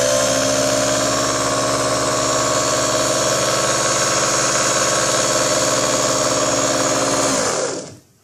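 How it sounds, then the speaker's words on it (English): Small 12-volt DC motor running off a transformer and bridge rectifier, giving a loud, steady, even whine with a buzzing hum that holds constant and then winds down abruptly at the end. "I'll turn the transformer on through the bridge rectifier to my little 12-volt DC motor"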